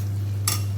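Aloo capsicum sabji gets a single quick stir in a pan, a short scraping swish over a constant low hum, close and fairly loud.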